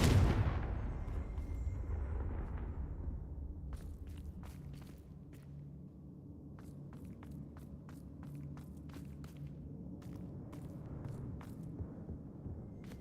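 A Confringo fire spell cast in the Hogwarts Legacy video game bursts out in a loud opening blast, then gives way to a rumbling fiery roar with scattered sharp cracks and thuds that continue to the end.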